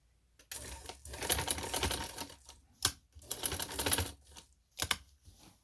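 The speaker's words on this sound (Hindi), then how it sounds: "अब इसको अंदर करना है और सिलाई लगा देनी लेस पे" A sewing machine stitching lace onto fabric runs in several short rattling bursts separated by pauses, close by and fairly quiet, with no voices.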